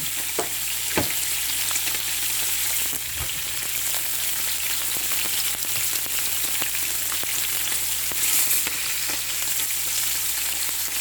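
Garlic and white onions sauté in hot oil in a pan, giving a steady, moderately loud sizzle with occasional stirring clicks and scrapes and no talking.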